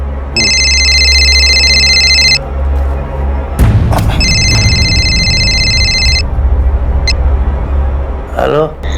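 A telephone rings in two bursts of electronic trilling at night, followed by a clatter as it is picked up, with voices talking afterward.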